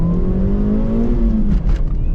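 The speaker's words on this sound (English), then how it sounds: "oh, it spins tires in first and second gear" A Suzuki Swift Sport accelerating hard in low gear, engine note climbing steadily up close and loud before a shift, with tire noise underneath.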